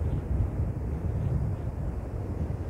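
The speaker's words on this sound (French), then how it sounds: "le vent est toujours plus présent ici en bord de mer" Steady seashore wind buffets the microphone in a constant low rumble with a broad hiss above it, continuous and fairly loud, with no voices.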